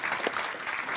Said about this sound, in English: you get applause for just existing